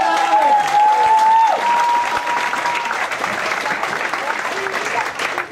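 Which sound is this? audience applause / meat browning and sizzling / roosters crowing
audience applause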